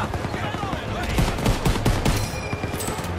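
Dense gunfire from a Call of Duty: WWII battle in the trenches, with rapid overlapping shots and bursts sustained loudly throughout.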